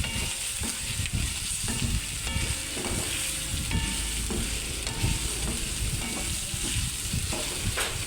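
Hotdogs fry in a pan for a home-cooked spaghetti, giving a loud, steady sizzle with frequent stirring clatter throughout and no talking.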